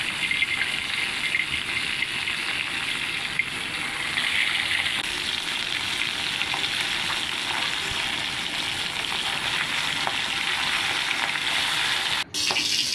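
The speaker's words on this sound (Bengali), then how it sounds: "মাছগুলো ভাজা হচ্ছে।" Sea popa fish frying in hot oil with panch phoron: a dense, even, hissing sizzle that holds steady throughout, with a brief knock near the end and no voices.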